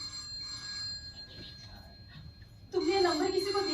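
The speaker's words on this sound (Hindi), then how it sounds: "अगर हम लोग इस कमरे में इस वक्त नहीं भी होते फिर भी तो फोन ऐसे ही बजता" A telephone rings in a room during a live Hindi stage play, with steady ringing tones in the background that turn into a louder, brighter ring near the end.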